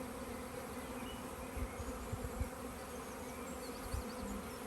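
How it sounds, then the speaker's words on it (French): Honeybees buzzing steadily at the entrance of a hive, wings fanning in a dense, continuous drone that holds at moderate volume throughout, with a few slightly louder swells near the end. "Vous avez vu qu'elles battaient des ailes"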